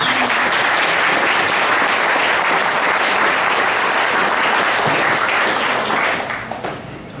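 Wedding guests applaud steadily and loudly for several seconds, the clapping tapering off near the end.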